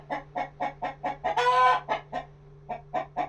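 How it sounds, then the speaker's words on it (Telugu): A hen in a home garden clucks nearby in a quick rhythmic series of about a dozen short calls, with one longer squawk in the middle and a faint steady hum underneath. "కోడి ఒక పక్కన అరుస్తుంది అనమాట లోపలికి వచ్చేసి"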